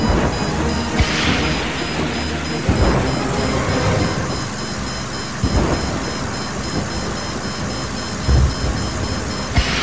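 Rumbling thunder and steady rain from a storm in the Disney Planes video game, with several heavy low booms rolling in over a constant hiss, plus a faint steady electronic tone running underneath.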